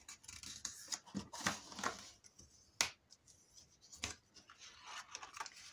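Paper being snipped with scissors while assembling a vintage-style mini album, several short crisp cuts spaced irregularly, close and fairly quiet, with no talking.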